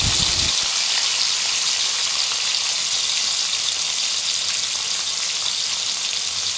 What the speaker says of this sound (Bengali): আর এখন সব মাছগুলো ভেজে নিচ্ছি।